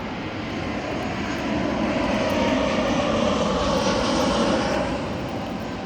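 An airplane passes low overhead in the Starlight area, its engine roar loud and sustained, swelling slightly toward the middle and holding steady without any talk.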